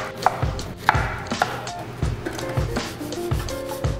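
A knife chops red onion on a board for a vegan vegetable tray bake, making close, crisp chops in a steady rhythm of about two per second, with no voices.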